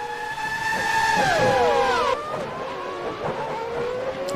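Racing video game cars scream past on a track, high whining engine tones sweeping down in pitch as they pass and overtake, a steady loud engine drone throughout with no talk.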